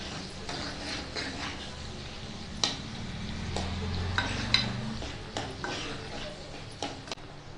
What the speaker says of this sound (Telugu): ఉల్లిగడ్డ, ఒకసారి అయితే కలుపుకోవాలి ఇట్లా.